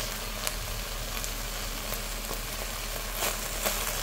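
Beef steak sears in a hot pan with a continuous, even sizzle and faint crackles popping up now and then, steady and close, without any voices.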